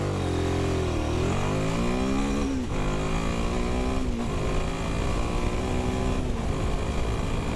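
Royal Enfield Himalayan 450 motorcycle accelerating hard from a standstill at traffic lights to 60, engine loud and close, revs climbing then dropping at each of three gear changes, one brief touch of the limiter.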